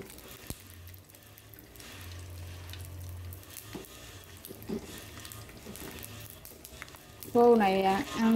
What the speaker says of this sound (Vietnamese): bữa nay chiên khô ăn cơm